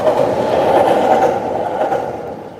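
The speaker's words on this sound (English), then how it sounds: "You can hear the trains rumbling by underneath there." Trains rumbling along the tracks beneath Harajuku Station in Tokyo, where a new station is being built above them; a steady, broad, fairly loud rolling roar that holds throughout, with no voices.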